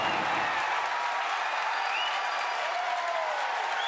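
A crowd cheering and applauding at Falcon Heavy side booster separation, a dense continuous roar of clapping and voices with faint whistles, steady and fairly loud throughout.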